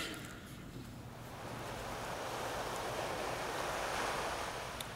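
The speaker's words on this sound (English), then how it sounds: "And I just want to hear some waves here." Ocean waves surge and wash ashore in a steady, broad roar that swells slightly toward the end, with some wind rumble over the microphone and no voices.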